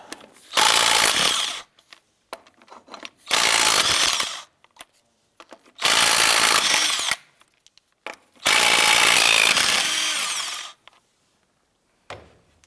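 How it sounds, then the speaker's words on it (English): A power tool spins a 19mm socket to remove lug nuts from the rear wheel of a 2004-2012 Chevrolet Colorado, running in four loud, steady bursts of about two seconds each, separated by short pauses. "I'm going to go ahead and use our 19mm socket and remove the lug nuts."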